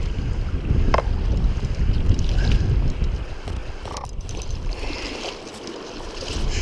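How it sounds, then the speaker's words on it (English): Wind gusts over Montana's Madison River during fly fishing, a steady, rough broadband rush that swells and eases, with faint water and boat-like sounds beneath and no talking. "the wind is starting to really pick up"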